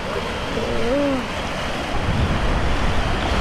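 Ocean surf at an island beach in Koh Rong, Cambodia, a steady loud wash of breaking waves with some wind buffeting the microphone and no speech.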